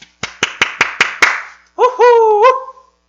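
A teacher claps hands six times in a quick, even rhythm, close and crisp, followed by a short cheering vocal whoop.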